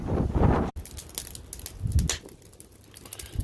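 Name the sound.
wind blowing outdoors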